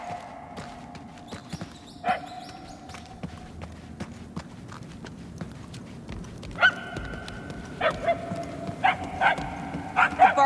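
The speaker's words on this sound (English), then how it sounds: "The barking is getting fainter." Repeated dog barks ring out over a steady background hum and soft talking, growing more frequent toward the end, with a slightly synthetic quality, from the video game Marvel's Guardians of the Galaxy.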